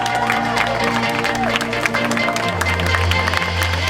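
Audience applauding at a triathlon podium ceremony in Nevers, steady broadband clapping from a crowd, with a low hum of music or PA underneath throughout.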